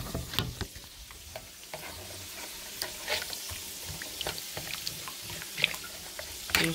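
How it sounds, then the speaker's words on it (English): Spoon stirring and breaking up powder in a cooking pan while making turkey chops, giving scattered scraping clicks and soft sizzling at a close, moderate level. "Stir all the powder up. Break all the powder up."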